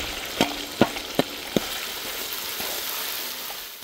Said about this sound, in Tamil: நல்லா சின்ன வெங்காயமும் பெரிய வெங்காயமும் நல்லா வதங்கிடுச்சு